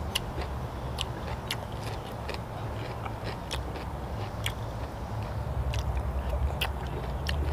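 Cooked apple snails being bitten and chewed close up, giving repeated crisp crunches and clicks over a steady low background noise, with no talk.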